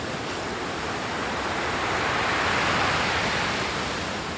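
Ocean surf rushes steadily as a continuous, loud wash of breaking waves, with no voices.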